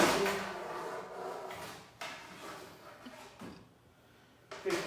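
A wooden dresser drawer slides open and shut close by, a rough rumbling scrape with a few bumps and a knock near the end; no one speaks.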